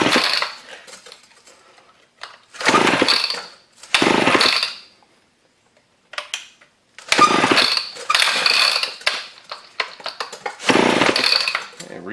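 Recoil starter being yanked on a scrap chainsaw, several sharp ratcheting pulls in bursts separated by short silences, close and fairly loud.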